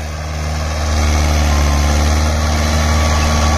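A Mahindra 575 DI XP Plus tractor engine runs steadily at a constant RPM, close up and loud. Its deep, even throttle drone rises slightly after the first second and holds with no drop.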